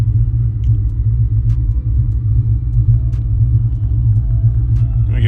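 A Hellephant 300 V8 engine idles steadily while still cold, producing a deep, continuous low rumble close by with faint mechanical ticks above it.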